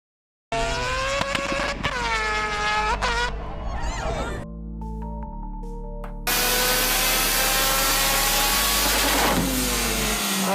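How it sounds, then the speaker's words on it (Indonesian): A rotary Wankel car engine runs and revs, with loud rising and falling whines and sweeping pitch changes, then a steady high-pitched drone after a short quieter stretch. "Selamat datang di mesin rotary,"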